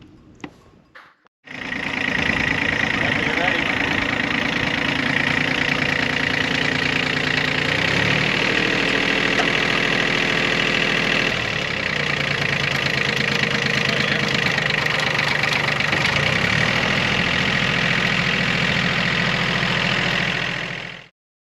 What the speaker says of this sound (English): Now I've got this tractor, which I'm still learning how to use.